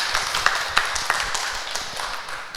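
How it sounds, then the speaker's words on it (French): Light applause at a talk on 5G, scattered individual claps rising and fading over a soft background, sparse rather than a full ovation. "on peut applaudir, c'est gentil."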